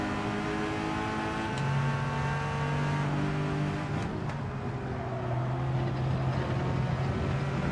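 Ferrari engine in Gran Turismo 7, droning steadily and loud throughout with a sustained tonal whine that shifts pitch as the car accelerates and changes gear.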